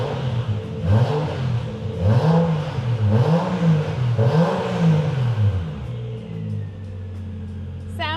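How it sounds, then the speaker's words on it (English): A car fitted with a Toyota JZ engine revs repeatedly and loudly up close, several rising and falling sweeps in steady rhythm, then settling into a lower idle-like drone before a short clatter at the end. "The JZ noises are intoxicating."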